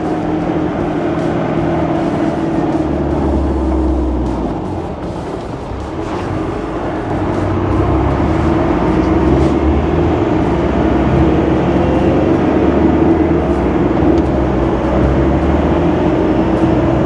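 A restored 1992 Land Rover Defender 110 TDI convertible climbs a hill, its diesel engine a steady, loud low drone with a rumbling undertone that dips briefly and then swells again as it pulls, heard from inside without talk.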